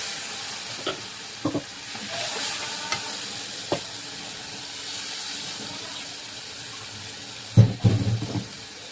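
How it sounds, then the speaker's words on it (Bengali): A ground mustard and poppy seed paste hits fried onions in a hot wok, with a steady low sizzle broken by a few scraping stirs and a louder clatter near the end. "আমি এবার এই যে সর্ষে পোস্তটা বেটে এনেছি, এটা ঢেলে দিচ্ছি"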